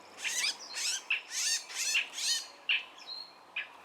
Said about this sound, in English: Is it a cat bird? Gray cat bird.